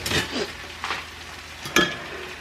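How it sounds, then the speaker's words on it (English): A fork whisks eggs for a breakfast casserole in a bowl, giving a few short scraping, clinking bursts in quick succession, close and moderately loud with no voices. "I'm just going to whisk this together"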